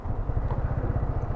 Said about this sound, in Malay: Okey, enjin pun dah hidup.